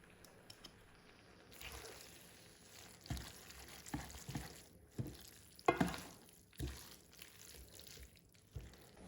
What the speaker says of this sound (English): give it a lovely stir until everything is well